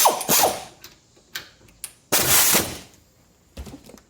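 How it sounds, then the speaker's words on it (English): An old Northern Tools ratchet from the 1990s or early 2000s tightens a bolt in loud, close bursts of mechanical clicking and whirring, with gaps between each burst and no voices. "If you want to see how good my old Northern Tools ratchet from probably the 1990s, early 2000s will do. See how tight it'll get it."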